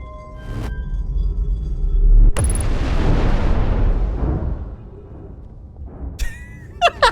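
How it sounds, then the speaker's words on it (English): A spaceship blows apart in Outer Wilds with a sudden heavy blast that rolls into a long crackling, rumbling roar and fades over several seconds, followed by sharp electronic blips near the end. "I blew up my ship!"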